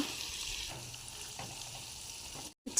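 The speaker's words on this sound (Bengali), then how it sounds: "আদা আর রসুনের কুচি দেবো তেলের ওপরে।" Chopped ginger and garlic sizzle in hot oil, giving a steady hissing fry close by that cuts out abruptly near the end before a sharp clatter.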